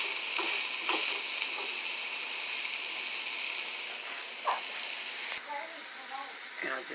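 French toast slices frying in a pan, a steady close hissing sizzle that continues throughout, with small pops and a few bursts of clattering and voices over it.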